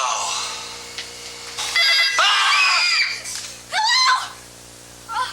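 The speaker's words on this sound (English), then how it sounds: "then the phone rings again" A telephone rings in a horror film scene, several loud, bright electronic ring bursts with short gaps between them, close and clear.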